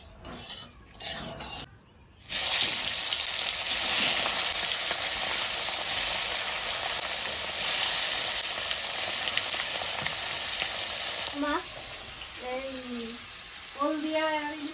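Oil goes into a hot kadai for hilsa fish rubbed with salt and turmeric, a sudden loud sizzle that holds steady for several seconds before a voice talks over the frying.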